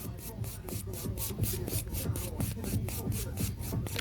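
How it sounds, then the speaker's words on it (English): A purple buffer is rubbed over the top surface of a gel-coated fingernail in quick, even back-and-forth strokes, a close, soft rasping swish repeating steadily throughout. "we're going to go in with our purple buffer, and we're going to buff the whole top surface of the nail"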